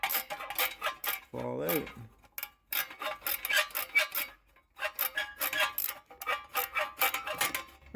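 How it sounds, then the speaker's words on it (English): Rapid metallic ticking of a stubby ratchet backing out starter bolts on a Briggs & Stratton 44P777 engine, coming in quick close bursts with short pauses and a brief spoken remark. "I'm just using this stubby ratchet"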